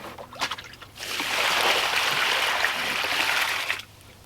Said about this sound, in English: I'm going to dump out my rinse water.